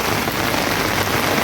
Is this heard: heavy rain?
yes